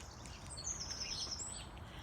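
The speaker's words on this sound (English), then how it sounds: "As you can hear this morning, the birds are singing their territories because they're going to be nesting soon" Birds sing and chirp outdoors on a spring morning near nesting season, with bright repeated tweets that carry over a steady low background rumble, moderately faint and without talk.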